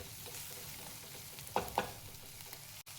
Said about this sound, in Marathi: तेलामध्ये भाजून घ्यायची मिरची.